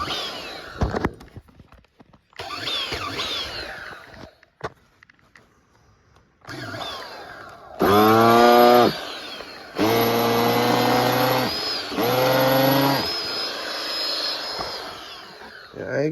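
An OS Max 21 XRB three-port nitro RC engine is cranked over without a glow starter, giving loud buzzing, whining bursts with small pops between pauses and quieter rustling.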